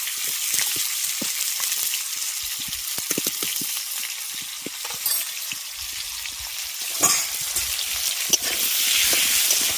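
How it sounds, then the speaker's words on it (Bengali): Potatoes fry in hot oil with turmeric and salt, giving a steady, close broadband sizzle with scattered crackles and pops and occasional scrapes of stirring throughout, with no talking. "আর এই আলু ভাজার সময় এতে সামান্য পরিমাণ হলুদের গুঁড়ো আর লবণ দিয়ে দিচ্ছি"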